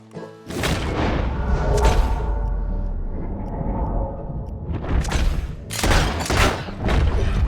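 Heavy booming gunshots in Red Dead Redemption 2: a loud close blast with a long echoing rumble, then after a few seconds a second cluster of sharp shots in quick succession.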